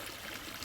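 Fast-flowing water runs into a koi pond with a soft, continuous splashing trickle, faint and steady across a brief moment.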